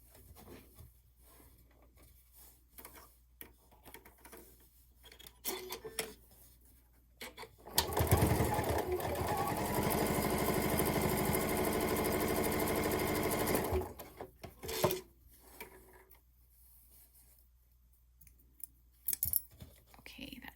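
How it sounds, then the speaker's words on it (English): A sewing machine stitches a fabric phone case in one steady, close whirring run of about six seconds, with quiet handling noises of cloth before and after. "I'm just going to re-stitch this little part right here."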